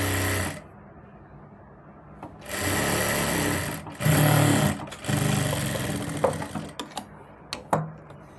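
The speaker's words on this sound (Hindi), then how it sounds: "और देखिए इसके साथ साथ हम ऐसे इसमें सिलाई लगाएंगे।" A sewing machine stitches the miyani of a palazzo in bursts of steady whirring, with short pauses between runs and a few quick stuttering stitches near the end, close and alone.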